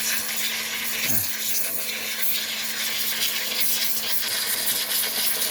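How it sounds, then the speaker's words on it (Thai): A high-pressure water pump with a needle nozzle blasts caked dirt off a rice harvester, giving a steady, loud hissing spray that runs unbroken throughout with a constant motor hum beneath it. "ตอนนี้ต้องเอาปั๊บน้ำแรงที่เป็นแบบ หัวเข็มเลยครับยิ่งเจาะเลย"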